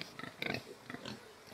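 A pig wallowing in a muddy hole it dug at a small farm, giving a few short, quiet grunts up close.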